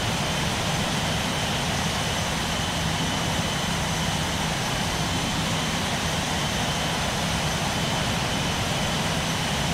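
Airbus A330-300 jet engines roar at takeoff power in a flight simulator, a loud, unbroken broadband rush with a steady low drone throughout.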